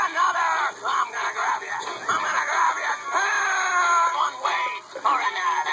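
A Paranormal Activity 4 promotional toy ghoul lets out a shrill, wavering electronic scream in repeated bursts, moderately loud and continuous with a faint steady hum beneath.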